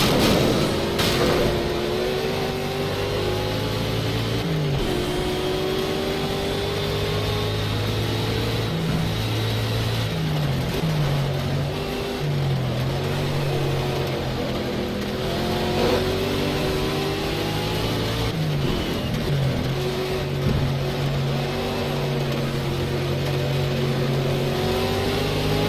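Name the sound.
Ford Mustang race car engine in a racing video game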